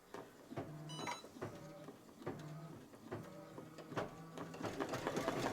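A Brother Luminaire single-needle embroidery machine stitching a tack-down line on fabric, a quiet, steady rhythmic whir and clatter of needle strokes that swells slightly toward the end, with no talk.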